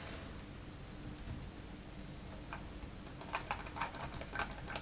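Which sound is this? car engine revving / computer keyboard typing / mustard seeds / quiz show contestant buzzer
computer keyboard typing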